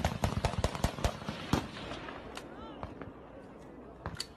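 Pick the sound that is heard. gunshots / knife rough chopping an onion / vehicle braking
gunshots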